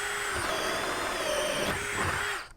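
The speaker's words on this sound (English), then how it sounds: "So now we're going to drill another hole here" A Dewalt Atomic DCD708B brushless 20V cordless drill set to speed level 2 bores a hole, a steady, close, continuous whine of the motor running loud and unbroken for a few seconds before winding down.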